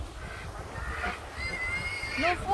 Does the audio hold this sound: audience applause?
no